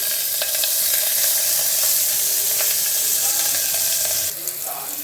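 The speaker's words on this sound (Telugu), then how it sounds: "ఇది కొంచెంసేపు ఆనియన్స్ కొద్దిసేపు వేయించుకుందాము" Onions sizzling in hot oil with cloves and a bay leaf in a pan, a steady bright hiss with a few faint clinks, continuous and close, fading slightly at the end.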